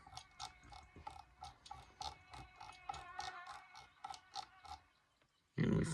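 A ratchet wrench turns a bolt on a car in the video game My Summer Car, giving a steady run of quick, evenly spaced clicks, then a short pause and a louder thump at the end.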